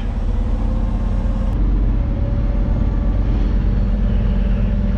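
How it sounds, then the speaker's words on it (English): Heavy diesel truck driven and parked by a mechanic, a loud, continuous low engine rumble close by with a steady drone and no talking. "Just gotta move this truck and park her back in the spot."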